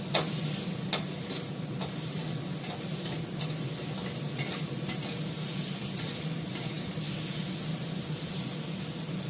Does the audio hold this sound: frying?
yes